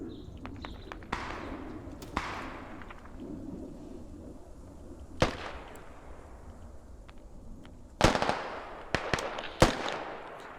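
Bombing explosions in the video game Squad, with insurgents fighting Australian forces, come as a series of booming blasts with long rumbling tails, several sharp cracks clustered toward the end, over a constant low battlefield rumble.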